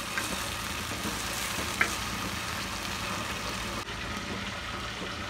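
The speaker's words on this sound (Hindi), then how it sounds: "बिल्कुल ही लो फ्लेम पे इसको रख के फ्राई करना है" Fish frying in a little oil in a pan on a very low flame, with a steady close sizzle throughout and a single brief clink partway through.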